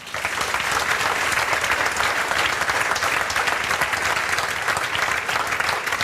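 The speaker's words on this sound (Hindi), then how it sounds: "तो जोरदार तालियों की बात है" A loud, sustained wash of audience applause, many hands clapping densely and evenly without pause, filling the space from start to finish with no voices standing out.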